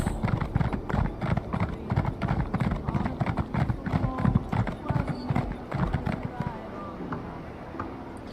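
Horse hooves clip-clop steadily in The Elder Scrolls Online, a quick even rhythm of close, clear footfalls running through most of the stretch, with a voice talking over them.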